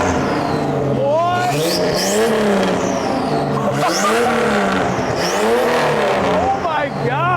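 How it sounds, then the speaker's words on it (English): A Jeep Wrangler fitted with an exhaust amplified by junk parts emits rising and falling turbo whistles over a steady loud engine roar while driving, with people talking briefly over it. "you weren't kidding about it still having all of its turbo noises"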